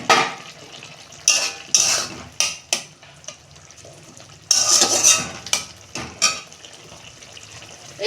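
Lid lifted off a metal cooking pot of ridge gourd and potatoes with poppy seed paste, giving sharp metallic clanks and scrapes in a few irregular bursts, close and loud, with a soft sizzle between them.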